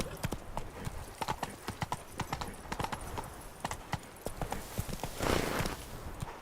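Roach, the horse in The Witcher 3, trotting with a steady, quick clip-clop of hooves, close and fairly loud, with a brief louder rustle near the end and no talking over it.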